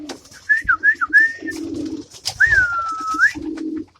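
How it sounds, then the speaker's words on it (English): Birds around a coop making low throaty coos alongside higher whistling, sliding calls, close and fairly loud, in separate bursts with short pauses between them. "Come on, birdies."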